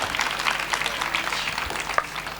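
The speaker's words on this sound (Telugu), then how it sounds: "సరే, వీళ్ళకి క్లాప్స్ కొడదామా?" An audience at a parish youth Christmas celebration clapping, a dense steady patter of many hands at moderate loudness with a hall's background murmur.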